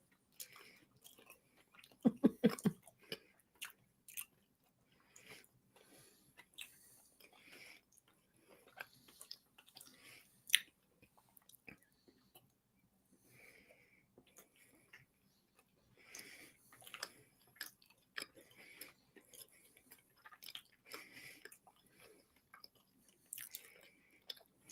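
Gingerbread topped with nib sugar and candied ginger being chewed up close, a faint, quiet stream of soft crunchy bites and mouth sounds with one louder crunch near the start.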